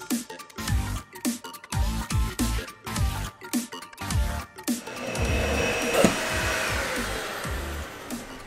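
A vacuum cleaner starts up partway through a household cleaning session and runs as a steady, loud whir with some rattling, following a series of rhythmic thumping bursts.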